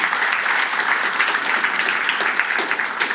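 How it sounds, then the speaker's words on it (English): Steady applause from a church congregation fills the room at close range, a dense, continuous clapping with no voices on top. "I know that I'm asking you to clap for yourselves"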